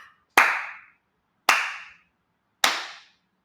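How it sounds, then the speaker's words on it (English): Three sharp, separate claps ring out in a slow rhythm, each with a short room echo, as children clap a rhythm back in an early-years classroom. "Boys and girls, clap it back."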